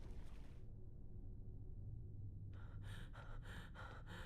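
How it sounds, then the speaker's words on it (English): A character breathes heavily during a Kingdom Hearts cutscene, with a sharp gasp up front, then a pause over a steady low background hum, then a run of rhythmic, breathy pants near the end. "heavy breathing scene, part 2."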